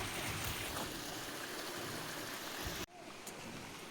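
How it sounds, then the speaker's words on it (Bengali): A waterfall beside a walking path in Thimphu, Bhutan, gives off a loud, steady, close rush of flowing water that cuts off abruptly just before the end. "এই যে এখানটা ঝর্ণা।"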